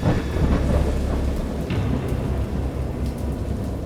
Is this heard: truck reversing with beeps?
no